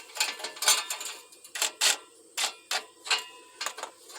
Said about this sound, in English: And then I'll tighten it up a little bit